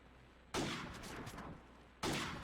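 Two booming gunshots in a video game, each a sudden loud blast with a long rumbling tail, the second cut short at the end.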